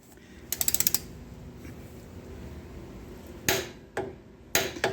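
Torque wrench tightening the lower ball joint nut on a 2003 Dodge RAM 3500 dually, with a quick burst of close ratchet clicks followed by a few separate metallic clunks.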